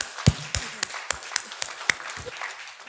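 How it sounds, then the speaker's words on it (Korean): A church congregation applauding after a prayer during a Sunday afternoon worship service, scattered claps with a few loud nearby hand strikes standing out over a thinner ripple of clapping that softens toward the end. "주님께 영광의 박수 올려드리겠습니다"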